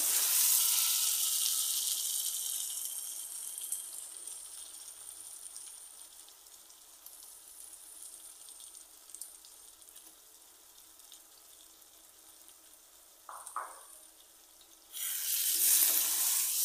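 Steady hissing sizzle of prawns frying in a pan for a prawn stew, fading gradually, with a brief clatter and a louder burst of sizzling near the end.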